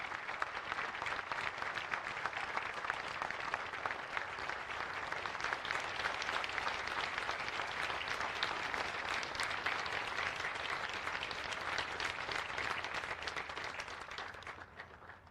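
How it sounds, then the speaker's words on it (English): Steady, dense applause from an audience at a Pearl Harbor anniversary memorial ceremony in Hawaii, a full crowd clapping continuously for about fifteen seconds before tapering off at the end. "Ladies and gentlemen, a huge round of applause for Riptide Ripple."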